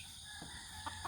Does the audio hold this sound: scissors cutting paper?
no